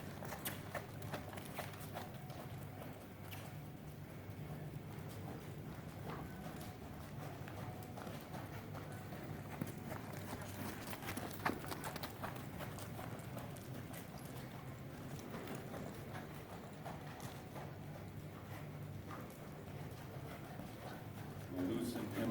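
A five-year-old Warmblood horse trots steadily in a circle under a rider during rehab training, its hooves beating a regular clip-clop while a voice talks over it throughout.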